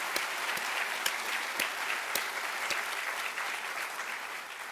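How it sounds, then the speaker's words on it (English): A seated audience at a medical school white coat ceremony claps in a steady, even round of applause, dense and sustained for several seconds with scattered sharper individual claps. "Let's give them a round of applause."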